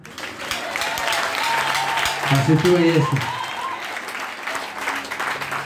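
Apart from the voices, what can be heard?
applause in church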